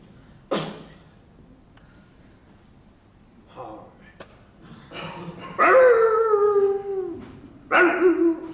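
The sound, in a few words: dog howling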